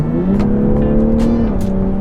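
A BMW G20 M340i accelerating hard on an open road, its engine note rising loud and close, then dropping slightly as the revs change.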